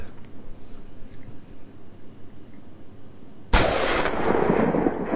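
A shotgun fires at wild boar during a driven hunt: one sharp, loud blast about two-thirds of the way through, followed by a sustained rushing rumble over faint outdoor background noise.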